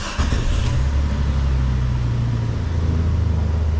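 An off-road vehicle engine turns over and settles into a loud, rough running drone with an uneven low hum, heard close up with no talking.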